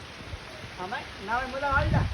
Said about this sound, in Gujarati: કેટલા જોરદાર બારિશ આવી ગયા